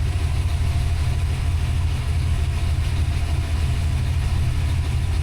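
Freshly built 363 engine fitted with Holley Smart Coil ignition idling, a steady close, low rumbling idle that holds even throughout with no talking over it.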